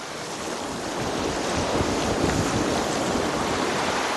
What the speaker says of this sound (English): This is a man-made channel, and it leads directly to the water wheel.